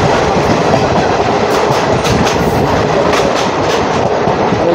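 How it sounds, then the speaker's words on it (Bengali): Agartala-Karimganj DEMU train 75679 runs through Tripura, its wheels clattering in a loud, steady clickety-clack over a rushing rumble, with no one talking. "আমাদের ট্রেন এই মুহূর্তে এসে পৌঁছেছে তার যাত্রাপথের 7ম স্টেশন এসকেপাড়া স্টেশনে"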